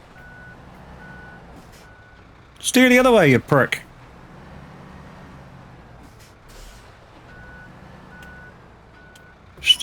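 Reversing beeps from a truck in a snowy truck-driving sim sound as steady, evenly spaced mid-pitched pips. A loud burst of noise breaks in partway through, and someone talks over it.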